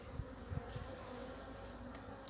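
Honey bees hum around an open beehive during an inspection, a faint, continuous buzz with a few brief soft knocks near the start and no voices.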